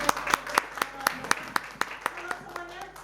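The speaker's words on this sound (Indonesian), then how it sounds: "Berikan tepuk tangan lebih meriah lagi untuk memuliakan Tuhan." Church congregation at a Sunday worship service in Batam clapping hands in a steady rhythmic beat, about a dozen sharp claps over a sustained background tone, with voices faintly underneath.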